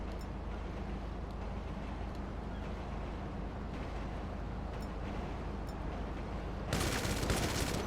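Car-mounted guns on an Annis Savestra firing in GTA Online, a steady roar of rapid gunfire over engine noise, then a louder, harsher burst near the end, with no talk.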